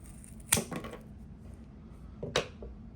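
A regular pair of scissors snips through a cloth belt twice, sharp, quiet crisp cuts about two seconds apart against a soft background hum.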